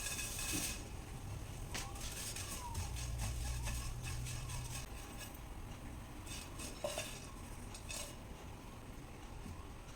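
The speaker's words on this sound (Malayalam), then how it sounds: "ഇതിലേക്ക് ഒരു കപ്പ് അവല് നമുക്കൊന്ന് വറുത്തെടുക്കാം." A dry, scraping stir of flattened rice flakes dry-roasting in a metal pan, with spoon and pan clinks repeating steadily throughout; no talking.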